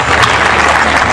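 Brief burst of dense audience clapping at a gathering, loud and close, filling the whole moment without pause.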